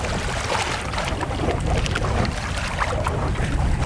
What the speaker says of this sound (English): We're running just one engine because the second engine doesn't really add much to the boat speed.